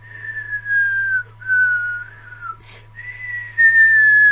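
Several people whistle in long descending glides, imitating anvils falling from the sky during a tabletop role-playing game session, with three sustained whistles over a steady low hum and a brief click between them.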